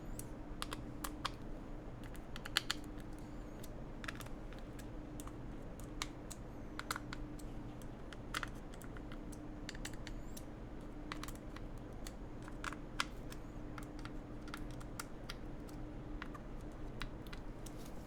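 Typing on a newly built Gok Type-K mechanical keyboard: a steady, fast patter of crisp key clicks, fairly close and quiet, continuing without pause and with no voices.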